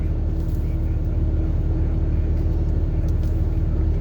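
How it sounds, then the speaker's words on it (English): A utility company boom truck drives past on a road along a burning hillside slope during a wildfire at night, a steady low engine rumble and road noise holding evenly throughout, close and fairly loud. "Edison with a boom truck."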